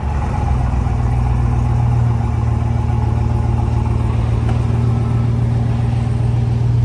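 A 2020 Chevy Silverado pickup truck with a steady, loud, close engine rumble and low drone throughout as it is moved slowly, with no talk.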